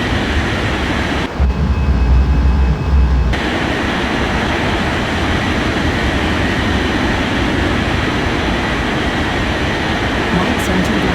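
Jet airliner engines roar in a steady, loud broadband rumble as the plane takes off from a runway in an air traffic control video game, with a brief louder surge early on.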